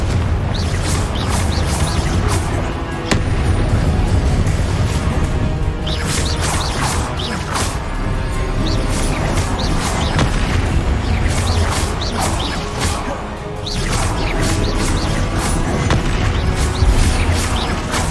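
Fiery Confringo spell blasts in Hogwarts Legacy, a dense run of repeated booming explosions and crashing impacts over a constant loud rumble of game sound, with no pause for the whole stretch.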